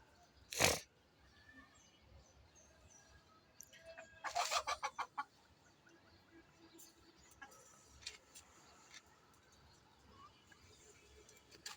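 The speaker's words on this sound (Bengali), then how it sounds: "মুরগি দুইটা ওইখানে আছে এই পাশে আরও আছে এ হলো আরেকটা মোরগ" Chickens and roosters on a small rooftop farm give a sharp loud squawk, then a rapid burst of clucks, followed by scattered quieter clucks against faint background noise.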